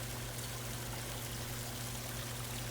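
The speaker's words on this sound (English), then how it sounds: "you hear as you're walking that the rushing of the river is getting stronger" Rushing river water gives a steady, even broadband hiss and gurgle with a constant low hum underneath, heard from nearby and unbroken throughout.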